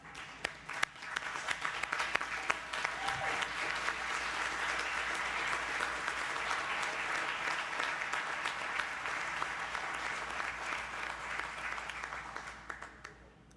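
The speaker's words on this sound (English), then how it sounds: "I want everybody to stand and give Donnie Morrison a round of applause" A standing audience at a high school hall of fame induction ceremony gives a long, steady round of applause for an inductee, dense and even throughout before tapering off at the end.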